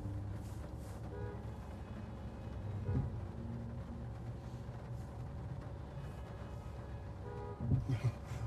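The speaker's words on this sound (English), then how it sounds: "A lot of honking going on here." Car horns toot faintly through a steady rumble of traffic and rain as a storm strikes Idaho Falls, Idaho, with a louder burst of honking near the end.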